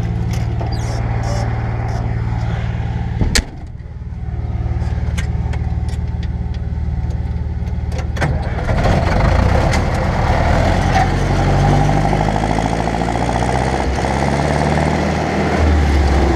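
A tractor engine runs steadily during silage corn harvesting, a loud continuous mid-range drone that briefly drops out, then returns rougher and heavier, with no talking over it.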